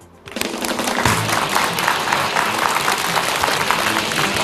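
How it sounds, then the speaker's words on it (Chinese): A studio audience at a televised workplace-health show breaks into loud, dense applause that starts abruptly and carries on steadily without pause. "让我们掌声有请"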